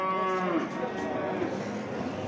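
Simmental crossbreed cattle at a livestock market, one loud close moo sounding over a busy background of crowd noise.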